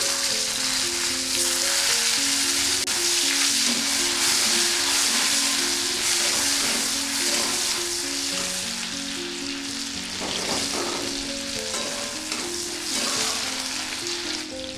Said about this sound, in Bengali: তেলের মধ্যে একটা তেজপাতা এবং কিছুটা গোটা গরম মশলা নিচ্ছি